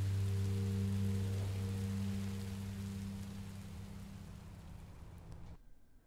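Rain falls steadily in the video game Minecraft Story Mode, a soft even patter over low droning tones that fades out near the end.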